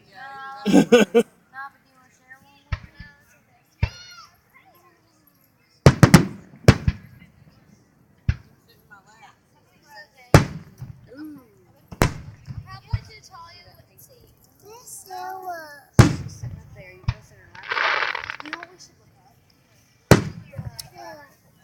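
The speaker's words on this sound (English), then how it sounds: "Oh, look at the firework Rachel." Fireworks bursting at irregular intervals, sharp loud pops and booms separated by pauses, with people talking between the explosions.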